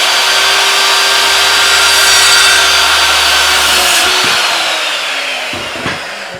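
Power saw cutting through wood while building a DIY plyometric box, a loud continuous whining cut lasting several seconds and slowing near the end.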